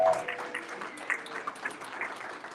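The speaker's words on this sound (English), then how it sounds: "stand up and give her a standing round of applause." Scattered applause from a conference audience, rising for a woman standing in the crowd, fairly faint and uneven with individual claps poking through a soft background.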